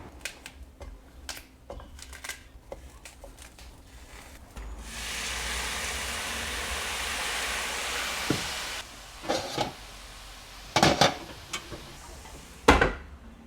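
A few utensil clicks, then a hissing sizzle of vegetables water-sautéed in a hot pan for several seconds, followed by scattered knocks and scrapes.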